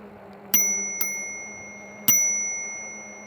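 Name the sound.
bicycle bell rung on Engwe E26 e-bike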